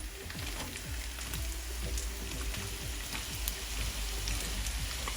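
Small red shallots sizzle in hot oil with curry leaves as they are fried for a Kerala-style pounded beef dish, giving a steady, close, crackling hiss with scattered pops and no talk.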